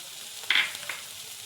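Spices with turmeric, red chilli powder and coriander powder sautéing in oil for spicy mixed vegetables: a soft background sizzle with one brief louder hiss, then a fainter crackle, quiet and close.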